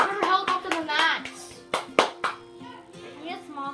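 A few sharp, scattered hand claps ring out close by, mixed in with children's excited voices talking over a Lego Marvel Superheroes game session among friends.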